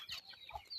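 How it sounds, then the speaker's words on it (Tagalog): Many chickens and chicks cluck softly in short bursts, a faint farmyard sound with some low rumble underneath. "Saka yan, daming manok"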